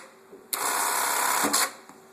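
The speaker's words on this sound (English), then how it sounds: "I can cycle the machine without any thread in it" An industrial bartack sewing machine cycles with no thread loaded, giving a sudden loud mechanical whirr and rapid stitching clatter that runs for about a second before stopping, close up.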